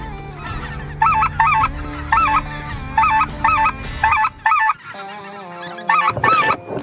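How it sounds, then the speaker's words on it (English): Geese honk in repeated bursts of loud, close calls, several birds at once, as waterfowl fly back toward hunters in Alberta; the honking comes in rhythmic clusters over a low steady background. "We got birds coming back."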